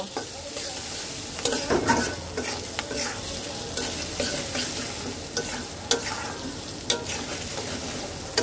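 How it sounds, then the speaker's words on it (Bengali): Potatoes fry in a pan with turmeric, green chili and salt for a vegetarian curry, giving a steady sizzle broken by repeated scraping stirs of a spatula, close and fairly loud, with no talking. "এবার এটাকে কয়েক মিনিট সুন্দর করে আমি ভাজা ভাজা করব"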